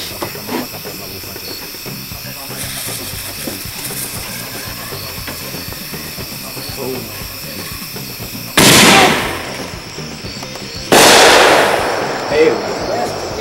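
Backyard fireworks go off outdoors among friends: a steady hiss and crackle carries through the first stretch, then two loud, sudden broadband bursts of ignition and whooshing launch follow each other a couple of seconds apart.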